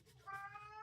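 A house cat gives one drawn-out, rising meow for attention, close and fairly clear, with a faint low background hum and no talking.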